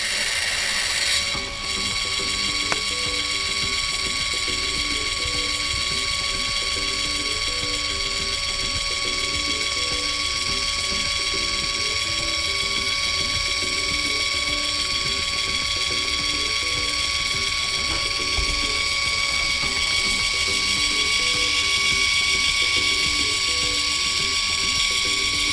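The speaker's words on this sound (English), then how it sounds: "Firstly, this printer needs to calibrate" A Canon Zoemini photo printer calibrates its printing mechanism with a steady, repetitive mechanical ratcheting and gear whir, running continuously at close range over a constant high electronic hum.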